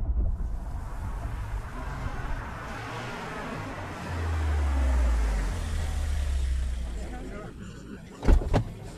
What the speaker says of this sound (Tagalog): Pwede po bang ihinto niyo muna ang sasakyan?